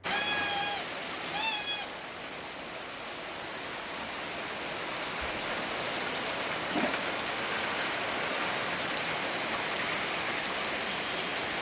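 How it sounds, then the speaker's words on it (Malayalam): Heavy rain pours steadily in a dense, even roar, with two short cat meows near the start. "നല്ല പൊരിഞ്ഞ മഴയാണ് കേട്ടോ കാണുന്നത്"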